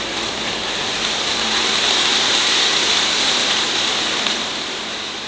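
Water poured into garlic-ginger paste cooking in a pan for a Mongolian chicken gravy gives a steady, loud hissing sizzle that holds across the whole moment, with no voices.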